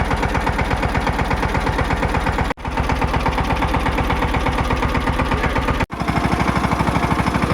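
A tractor engine labors nearby while building field bunds on a farm, a loud, rapid, pulsing chug that briefly cuts out twice before resuming.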